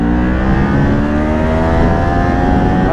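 A 2018 Kawasaki Ninja 400 motorcycle engine revs hard and close, holding a loud, steady high-pitched whine near its limiter for three seconds with no talk.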